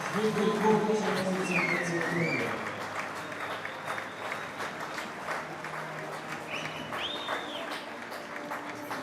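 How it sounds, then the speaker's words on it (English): A timbersports arena crowd applauds the Swiss home team, loud clapping and cheering at first that thins and fades, with a few whistles and scattered shouts through the crowd. "Tons of applause from the audience for the Swiss team"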